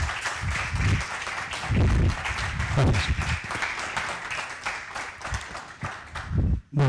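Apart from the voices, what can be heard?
audience applause welcoming a speaker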